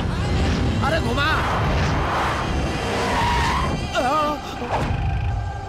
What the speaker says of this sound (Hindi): दुर्गा, गाड़ी घुमा, गाड़ी घुमा, गाड़ी घुमा जल्दी से।